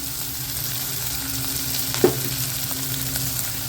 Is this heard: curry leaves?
yes